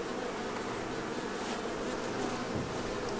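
Honeybees buzzing around an open homemade hive during a hive inspection, a dense continuous close drone with no pauses.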